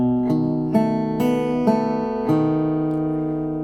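A guitar chord played on the bass note with strings four, three and two, struck as several separate plucked chords in an even, unhurried rhythm, each ringing clearly and decaying alone with no talk.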